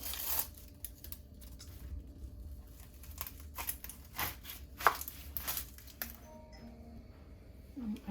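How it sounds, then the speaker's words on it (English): A knife chops half an onion on a board with quiet, uneven taps, a couple of sharper knocks and soft crunching, close by and alone. "Now I'm gonna cut my onion up."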